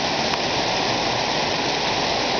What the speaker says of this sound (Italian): cascate da ogni parte.